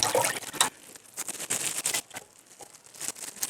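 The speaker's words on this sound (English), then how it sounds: "So I'm going to be pouring it here." One liter of milk is poured out for a homemade chicken probiotic and growth booster. Close, uneven bursts of splashing liquid rise and fall, loudest at the start.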